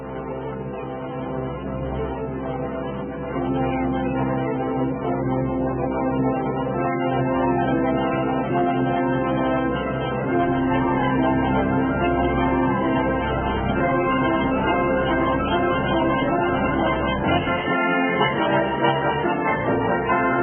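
Full orchestral music plays continuously and loudly, with rich sustained harmonies from many instruments swelling across the whole passage, tuned in equal temperament.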